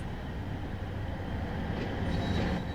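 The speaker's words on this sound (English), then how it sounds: "This particular train is the BR Class 150/2 diesel multiple unit in Regional Railways livery and consists of 2 cars." A two-car BR Class 150/2 diesel multiple unit in Regional Railways livery, running a Cornwall commuter route in Train Sim World 2, rumbles steadily with low engine drone and rolling wheel noise, loud and continuous, with no speech.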